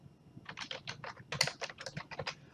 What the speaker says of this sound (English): I can type their name in there and that will do a patron search.